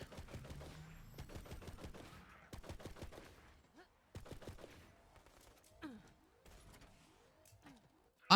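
Video-game gunfire from a co-op shooter, with rapid bursts of automatic shots in the first few seconds, then sparser single and short-burst shots with brief pauses, fairly loud and close, with no talk over it.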